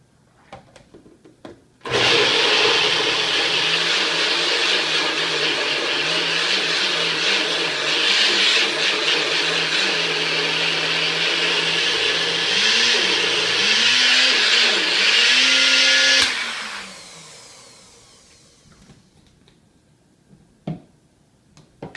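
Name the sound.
blender blending almond yogurt with probiotic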